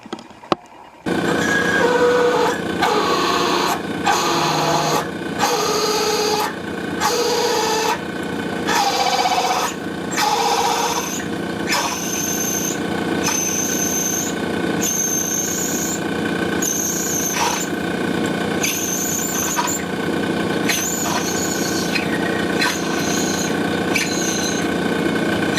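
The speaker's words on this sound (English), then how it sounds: "Alright, bigger drill time." A large drill bores steadily through stainless steel, with a high, shifting whine and screech that rises and falls over a continuous motor drone, loud and close.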